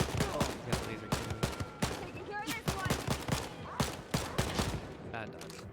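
A laser cannon fires in the video game Wolfenstein: Youngblood, giving rapid bursts of sharp blasts mixed with other gunfire and electronic whines, with a player talking over the action.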